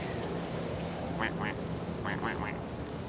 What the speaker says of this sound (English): I hear and see a duck.